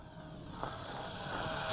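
A Tian Sheng TS866 F6F Hellcat RC scale plane flies near full power, its electric motor giving a steady high whine and buzz that grows slightly louder as it passes, heard alone outdoors.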